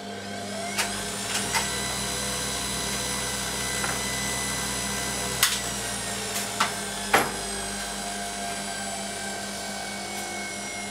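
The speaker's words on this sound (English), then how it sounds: "we can spin the motor up and increase the voltage to around 120 volts DC" A DC motor fed through a bridge rectifier from an isolation transformer spins up toward about 120 volts DC, giving a steady layered electric whine with a few sharp clicks and ticks scattered through it.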